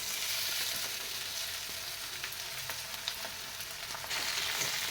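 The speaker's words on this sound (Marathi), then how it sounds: "दोन मिनिट कोबी या कांद्यामध्ये परतून घेतला की" Shredded cabbage and onions sizzle steadily in a hot pan, a continuous bright frying hiss with faint scattered crackles, close and with no voices.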